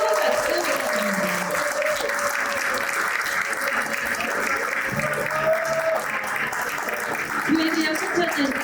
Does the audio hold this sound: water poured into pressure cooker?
no